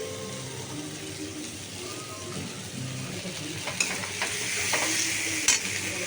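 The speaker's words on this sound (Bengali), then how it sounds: "সঙ্গে হলুদ দিয়ে ভালো করে নাড়বো। দিয়ে দিলাম একটু আদা বাটা।" Spices sizzle in hot oil with turmeric and ginger paste as a spoon stirs them around the pan, a steady frying hiss broken by sharper scraping clinks toward the end.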